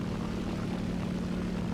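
A propeller plane comes in to land in the War Thunder video game, its engine a steady, loud droning hum that holds evenly throughout with no voices over it.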